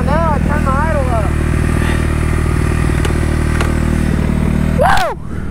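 A dirt bike engine runs steadily at a raised idle, loud and close throughout, with a harmonic drone and a few brief whistling pitch sweeps near the start and end before it cuts off.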